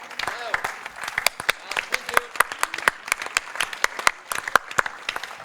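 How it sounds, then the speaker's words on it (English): Audience applause at a hysteroscopy medical symposium for Mark Hans Emanuel, with sharp individual claps standing out over a steady wash of clapping, moderately loud and continuous for several seconds. "I would ask a big applause to Mark Hans Emanuel"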